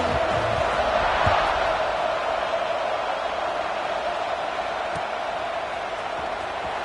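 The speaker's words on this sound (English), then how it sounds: "this crowd is buzzing after that last score" A football stadium crowd keeps up a steady, dense roar of buzzing noise at a TCU vs South Carolina game after a touchdown, broad and constant, with no single voice standing out.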